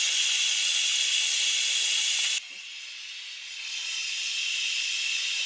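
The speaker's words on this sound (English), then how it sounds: "Okay, so our 4 minutes is up. I'm going to do a quick release." An Instant Pot on quick release vents steam in a loud, steady hiss, close by under a washcloth in a truck cab; the rush drops abruptly partway through, then builds back to a sustained hiss.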